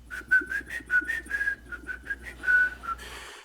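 A person whistles the tune of Yankee Doodle: a clear, close, bright melody of short separate notes at a lively pace, with no other sound.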